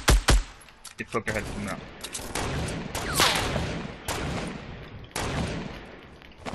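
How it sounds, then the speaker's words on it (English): Gunfire in the video game Fortnite: several sharp close shots and short bursts, some in quick succession, under players talking to each other. "Shooting at him."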